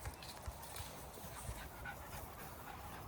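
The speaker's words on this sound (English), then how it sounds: "Look at the dog." A friendly dog panting nearby, with rapid rhythmic breaths over outdoor background noise and faint voices.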